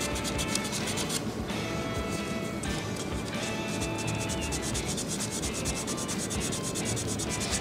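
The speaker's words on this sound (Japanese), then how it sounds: "なるべくねそのパテの頭だけを削るっていうイメージでペーパーをかけていってください。" Sandpaper rubbed over putty on the body of an Italeri 1/12 scale Abarth 695SS Assetto Corsa model car, a steady, close, continuous scratchy scrubbing that runs the whole time without pause.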